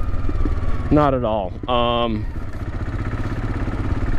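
A Royal Enfield Himalayan motorcycle with a big bore and cam upgrade, ridden on a twisty road. The engine thrums steadily and close, while a voice speaks briefly over it partway through.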